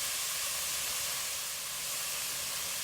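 Ground meat sizzling in a hot pan while browning for chili, a steady dense hiss that holds evenly throughout without pauses or voices.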